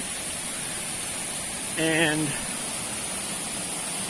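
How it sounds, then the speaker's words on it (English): Water cascades steadily down the lower waterfall at Excelsior Glen Falls, a constant broadband rush close by, with a brief spoken word rising above it midway. "all you hear is cascading water down here"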